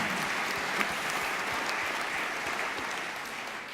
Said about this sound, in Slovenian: V Dravsko-pomurski regiji smo ploskali podjetju Stampal